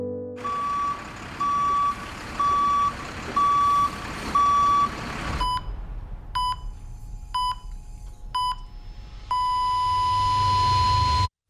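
A truck on a construction site sounds its reversing alarm in a steady run of loud, evenly spaced beeps over low engine rumble, then shifts to a quicker, different beep pattern ending in a long tone.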